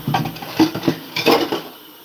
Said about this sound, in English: I'm cleaning dishes.